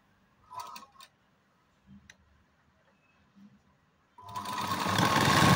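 A sewing machine stitches a folded half-inch edge of blouse lining; a few quiet taps and clicks come first, then a loud, continuous whirring run of stitching starts close by near the end.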